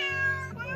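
A single short cat meow, clear and close, with a falling pitch.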